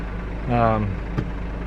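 A 2015 Mercedes Sprinter with a 2.1L four-cylinder diesel idling just after an oil change, a low steady hum under a brief rising mechanical whine and a faint click.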